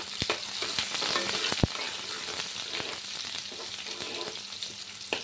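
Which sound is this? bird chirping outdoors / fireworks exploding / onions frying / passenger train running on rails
onions frying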